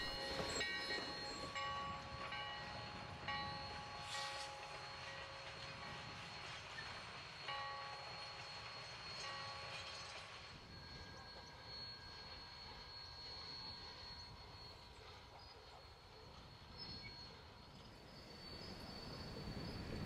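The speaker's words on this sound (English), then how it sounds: "Sierra No. 3 backs the excursion train across Belle Mooney Road" Sierra No. 3 steam locomotive backs an excursion train across a road crossing, a steady distant rumble of rolling cars with faint high squeals and tones.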